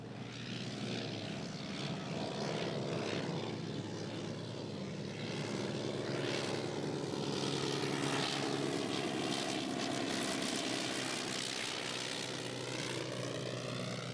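An early propeller aircraft replica flies with a steady, droning engine buzz that swells slightly and fades back, moderately distant, with no one talking.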